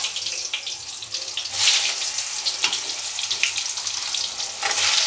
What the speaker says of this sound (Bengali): এবার আমি এটাকে, তেল গরম হয়ে গেছে, ভাজবো।